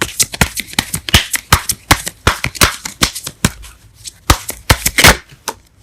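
Tarot cards being shuffled by hand, a close, crisp run of quick riffling slaps and flicks in an irregular rhythm, loud and alone with no talk.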